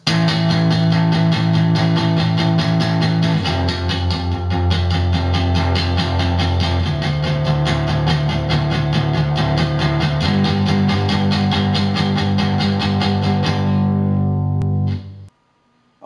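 Distorted electric guitar chugging barred power chords in a song, a dense loud wall of sustained palm-muted strums that shifts chord roughly every few seconds, then cuts off abruptly near the end.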